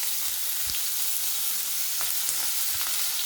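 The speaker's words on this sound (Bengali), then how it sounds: "পেঁয়াজটা আমার ভাজা হয়ে গেছে" Onion and chopped garlic frying in a kadai after eggs were fried, a dense close crackling sizzle with occasional soft stirring taps, no voices.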